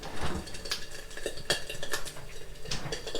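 Bacon cooking in a pan for a cream sauce, with metal utensils and pots clattering and scraping in quick, irregular knocks close by, steady kitchen noise throughout and no talking.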